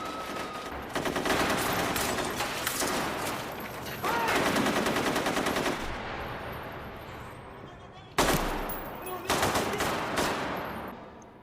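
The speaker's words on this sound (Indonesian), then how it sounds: "Mereka langsung mengeluarkan senjata dan menembak setiap orang yang mereka temui di hotel." Terrorists fire on people inside the Taj Hotel in the film Hotel Mumbai: loud, sustained automatic gunfire with dense bursts, a brief drop in intensity, then a sharp renewed volley near the end.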